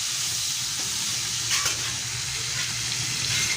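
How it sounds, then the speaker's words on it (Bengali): Prawns coated in salt and turmeric frying in oil in a wok, a loud continuous sizzle with brief stirring scrapes, close and alone without speech. "সেই চিংড়ি মাছটা আমি কড়াতে দিয়ে দিলাম, দিয়ে একটু নাড়াচাড়া করবো"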